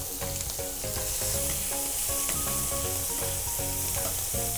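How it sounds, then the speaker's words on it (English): Shrimp searing in hot oil in a pan, a steady loud sizzle with crackles and occasional scraping as they are flipped, no talking. "So I'm just gonna start to flip the shrimp over so that we can see and get that very nice sear on"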